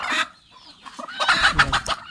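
Country hens cluck inside tin egg-laying boxes, giving a close string of uneven clucks and squawks from several birds with brief pauses between calls.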